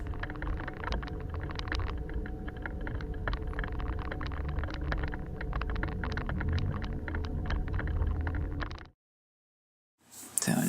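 A car rolling over compacted, slippery snow at night: a steady low engine and tyre rumble with scattered crackling ticks, cutting to near silence for about a second before a burst of noise at the end.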